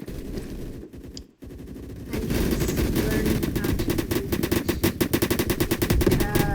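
Rapid automatic gunfire from a video game, loud and steady after a brief quieter stretch, with repeated shots crackling in quick succession and faint talk underneath early on.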